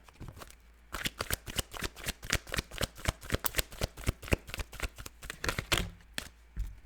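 Tarot cards are shuffled steadily with quick, crisp riffles and soft slaps repeating in a fast rhythm, close and fairly loud with no talking.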